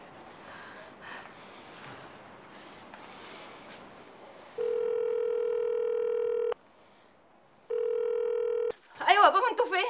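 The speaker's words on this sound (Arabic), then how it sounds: "اتصلي بالبيت، خدي يا محمد اتصل بالبيت" Telephone call to a home number: a faint rustle and breathy sounds, then two long steady dial-style tones separated by a short gap, followed by a burst of a voice at the end.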